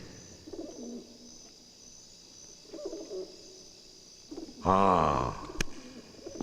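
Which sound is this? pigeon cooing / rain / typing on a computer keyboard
pigeon cooing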